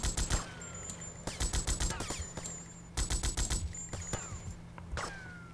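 Rapid bursts of machine gun fire in GTA Vice City ring out in several loud, clustered volleys, with short pauses and game sound effects between them, no talking.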